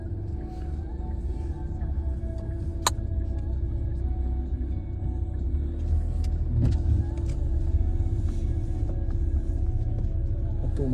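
A bus engine idles in a parking lot near Mont St. Michel, France, a steady low rumble that stays loud and constant throughout, with faint clicks and light background activity on top.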